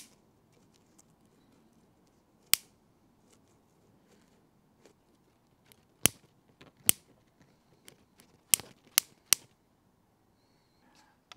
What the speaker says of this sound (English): Let me do my best so you can hear the zapping and see it with the leaf.